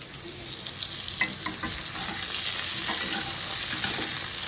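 Chopped onions frying in hot oil for biryani, a steady close sizzle with crackling bursts and occasional stirring, continuous and fairly loud with no talking.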